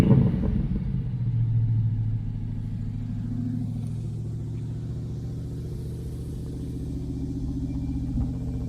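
A 1982 Chevy El Camino engine idles through dual exhaust pipes, a steady low rumble close by with a slight swell at the start, then settling into an even burble.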